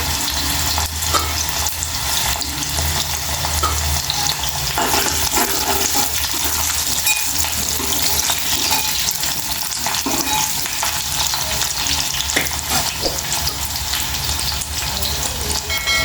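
Curry leaves fry in hot oil in a pan, giving a loud dense sizzle that crackles continuously throughout, with occasional stirring knocks underneath.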